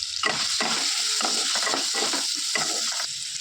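Potatoes with turmeric frying in oil, a constant sizzle broken by repeated scraping stirs of a spatula against the pan, close and moderately loud with no speech.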